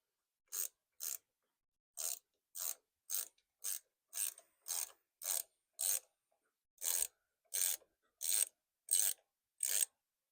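A ratchet wrench tightening parts of an engine governor, about fifteen crisp rasping clicks in short even strokes with brief pauses between, close and alone.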